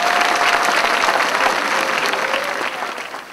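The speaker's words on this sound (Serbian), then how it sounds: "Ja bih zamolio jednim velikim aplauzom da se zahvalimo svim donatorima." A crowd applauds the donors at the opening ceremony of the Dani Mrkojevića 2008 festival, loud sustained clapping that gradually fades toward the end.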